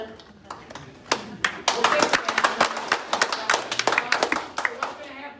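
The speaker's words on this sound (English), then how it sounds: "So what's going to happen is just going to be all this clapping now, Cervantes" Scattered audience clapping at a police ceremony: sharp individual claps that build into an irregular burst and then thin out, with speech heard throughout.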